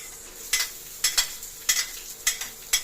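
Onions sautéing over high heat in a pan for dinuguan, a steady sizzle broken by sharp bursts of stirring scrapes about every half second, close and fairly loud, with no talking.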